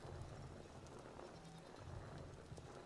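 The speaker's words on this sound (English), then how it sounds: "I hear a goat out there." Faint goat bleats in the survival game Vintage Story, repeating at a distance under a steady ambient wash of wind or rain.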